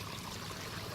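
Floodwater running as a little stream down through a wash area at a flooded campground, a steady broadband rush and trickle of moving water filling the whole second without a break.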